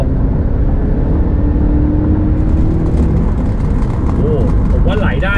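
A 2013 Honda CR-V 2.4 EL 2WD accelerates hard on an open road, its engine drone and road roar steady and loud throughout, rising into a climbing whine near the end, with someone talking over it.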